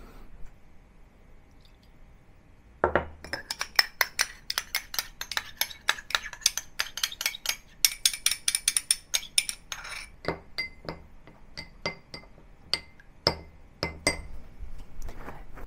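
Utensil stirring a mixture of light soy sauce and oyster sauce in a bowl, a quiet start followed by rapid, irregular clinks and taps against the bowl, close up, with no voices.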